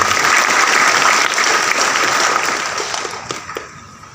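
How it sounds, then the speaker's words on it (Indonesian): Steady audience applause fills a church thanksgiving Mass, dense and continuous clapping that gradually thins toward the end. "Tepuk tangan juga untuk Anda semuanya."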